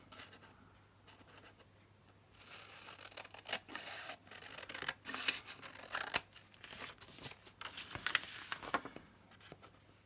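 Scissors cutting a panel out of paper, soft snipping and rustling that builds from near silence into a steady run of close crisp cuts.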